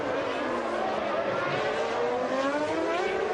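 Formula 1 cars race at the 1992 Monaco Grand Prix, heard as a steady, loud, high-revving engine whine with pitch sweeping up and down through gear changes and corners, close and continuous, with no voices over it.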